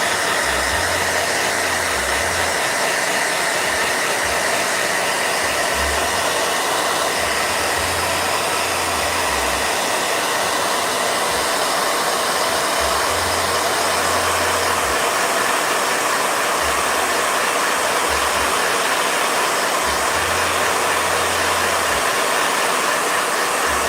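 Blow dryer running, a loud continuous roaring hiss that stays level for the whole stretch, with a low hum that pulses on and off underneath and no voices.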